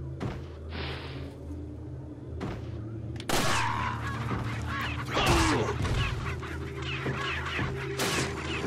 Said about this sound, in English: I like how I'm freaking out the chickens.